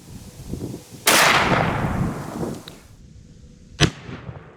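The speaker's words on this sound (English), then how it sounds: "now we're gonna try the 44 Magnum against the aluminum" A .44 Magnum revolver fires once at an aluminum ballistic shield, giving a loud sharp crack with a long decaying echo, followed a few seconds later by a second sharp, shorter impact.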